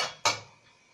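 A metal spatula knocks once against a cooking pan on a home stove, a single sharp clatter after a fading scrape, close and alone.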